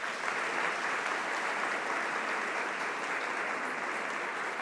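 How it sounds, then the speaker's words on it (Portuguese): Congregation applauding during an Easter celebration church service, a steady, dense wash of clapping that holds evenly loud for the whole stretch with no talk over it. "Pode dar uma salva de palmas?"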